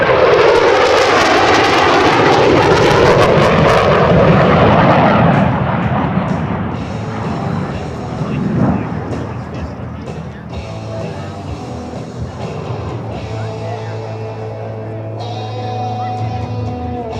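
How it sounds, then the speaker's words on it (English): An F-15C Eagle jet fighter makes an afterburner pass at an air show: a huge tearing roar that sweeps and fades into a lingering rumble while a commentator talks over a loudspeaker. "Here it comes from the right, the F-15."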